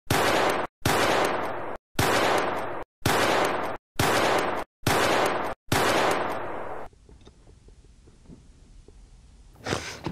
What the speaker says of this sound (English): You always were a terrible shot, James.